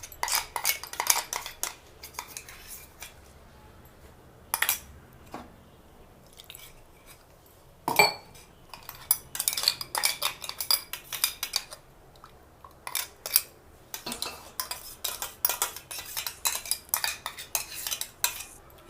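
A spoon scrapes and clinks against a pot in irregular bursts as cashew paste is stirred into boiled milk for kulfi, with quiet gaps between strokes.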